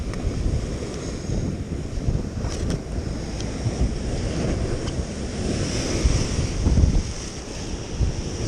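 Choppy sea waves slosh and slap while gusty wind buffets the microphone on a fishing trip off Blackpool, a continuous rough roar with occasional louder surges and no voices.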